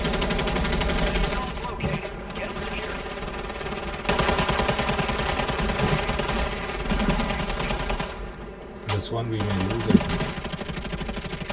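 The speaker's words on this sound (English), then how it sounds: "I'm not able to see where they're shooting me" Sustained automatic gunfire in the Warzone 3 video game, loud, dense rapid bursts running nearly the whole time with a brief lull near the end, mixed with game effects and a voice heard underneath.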